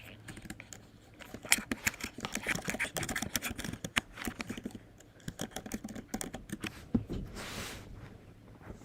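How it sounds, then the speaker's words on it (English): Rapid, uneven typing on a computer keyboard, dense clusters of clicks with brief pauses, close and moderately loud with no talk. "I'm trying to type here."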